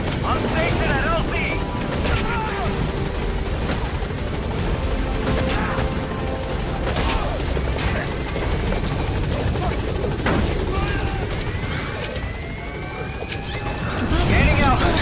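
A helicopter's rotor chop and turbine whine fill a battle scene in Metal Gear Solid V, loud and constant, with gunfire bursts and crashes and radio voices talking over it.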